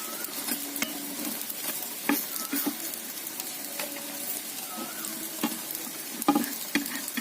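Bora fritters frying in oil over a low, gentle heat, giving a steady close sizzle with scattered sharp crackles and pops and occasional stirring scrapes, no voices.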